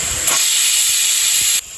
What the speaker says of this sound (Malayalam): അപ്പോൾ നമ്മുടെ മസാല ഞാൻ കുക്കറിൽ വെച്ചിട്ടുണ്ട്. ഇപ്പോൾ ഒരു 2 വിസിലായി.